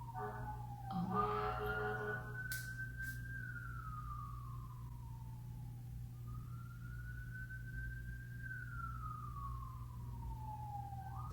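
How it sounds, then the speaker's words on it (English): An emergency vehicle siren wails outside, rising and falling in slow sweeping cycles, moderately distant over a steady low hum, with a brief burst of other noise near the start. "if these sirens don't stop."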